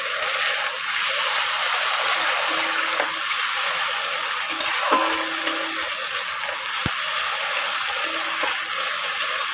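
Spices fry with browned onion in a pan for a soybean muitha dish, a steady, close sizzling hiss with faint stirring clicks and no talking.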